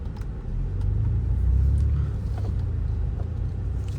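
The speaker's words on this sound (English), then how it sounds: "sport mode is a little bit louder, and you do get some burbles out the back as well" A 2020 BMW M340 in sport mode, its engine droning as a steady, loud low rumble from inside the cabin. The exhaust note swells midway, with occasional faint pops or burbles from the rear.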